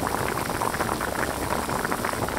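Tofu and fish pieces simmer over low heat in a pickled-vegetable broth in a Chongqing-style tofu fish dish, giving a steady, close bubbling hiss with no pauses.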